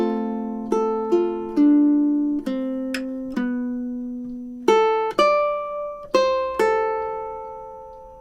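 Close, clean ukulele notes play the opening measures of a song, a sequence of plucked tones and strums in a steady rhythm, each ringing out before the next, with no talking.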